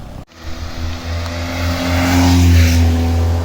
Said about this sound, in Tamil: இப்போ வந்து ஒரு டாட்டா நேனோ போகுது